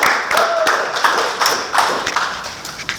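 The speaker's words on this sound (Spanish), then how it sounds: "un aplauso de bienvenida" A small audience claps in welcome for a speaker at a session, a few seconds of uneven hand claps close by with no voices over them.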